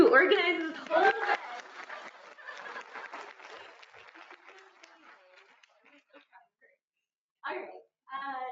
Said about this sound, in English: give a big round of applause to Lauren, who organizes the whole event